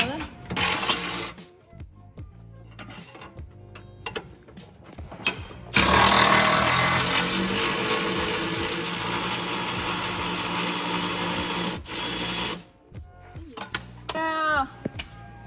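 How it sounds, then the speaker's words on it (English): Ratchet with a blue extension working on 17 mm suspension bolts while fitting camber arms to a supercharged Nissan 370Z, rapid clicking and mechanical clatter in bursts with a long loud stretch of rattling noise midway, close and harsh. "And ratchet with the extension, the blue extension on it."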